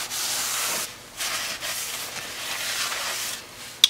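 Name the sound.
rag with brake cleaner wiping a brake rotor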